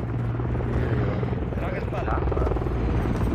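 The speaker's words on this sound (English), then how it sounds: "That's me. That's my helicopter." A helicopter in a Call of Duty video game gives a loud, continuous rotor thrum and engine whine, steady and close throughout with no pauses.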